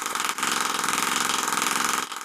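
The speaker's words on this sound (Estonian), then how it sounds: "Rõhku reguleeritakse, kuid see paneb mootori pulseerima." Homemade syringe-piston air motor running on regulated compressed air, a steady rapid pulsing mechanical chatter with hissing air, close and continuous, briefly dipping near the start and end.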